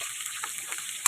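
Shrimp frying in a pan with liver being added, a short bright sizzle with a sharper crackle at the end, close and brief, no talk.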